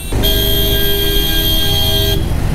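A car horn sounds in one long, loud, sustained blast over idling engines in heavy traffic at a toll plaza on the Pune to Mumbai road.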